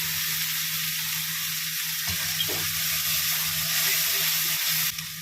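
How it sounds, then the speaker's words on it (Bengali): A ground paste of cardamom and cloves sizzles steadily in a hot pan for a Bengali potol chingri dish, with a soft scrape of a spatula stirring it partway through. "এটা আবার কষিয়ে নেবো ভালো করে"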